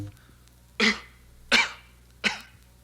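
Three separate coughs, each short and harsh, spaced about a second apart, close up with quiet in between.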